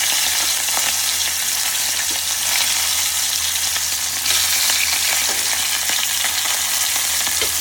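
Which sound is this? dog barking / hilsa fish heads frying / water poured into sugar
hilsa fish heads frying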